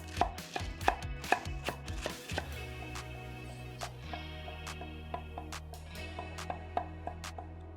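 A knife chops chayote, cauliflower, broccoli and cabbage for chop suey on a board. Sharp, close strikes come in quick rhythmic bursts, then slow to spaced single chops.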